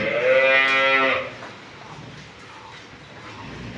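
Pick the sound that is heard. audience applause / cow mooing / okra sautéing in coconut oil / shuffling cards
cow mooing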